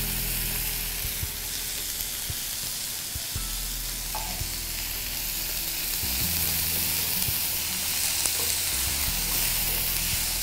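Ground spice paste gets stirred into beans curry sizzling in a pan, with a steady bright hiss of frying and soft scraping strokes of the spoon, no voices.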